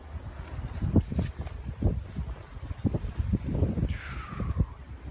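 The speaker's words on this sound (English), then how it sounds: "Windy." Gusty wind buffets the microphone at an outdoor campsite beside a debris teepee, coming in repeated rough bursts, with a faint whistling tone near the end.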